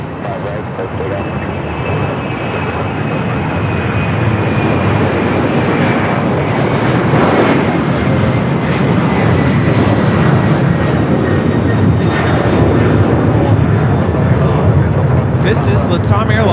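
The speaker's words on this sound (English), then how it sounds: "This is LATAM Airlines 2479, excuse me, taking off to Lima, Peru on the 767-300ER." A LATAM Airlines Boeing 767-300ER jet takes off from LAX, a loud, steady engine roar with a thin rising whine that holds for the whole stretch, with faint voices underneath.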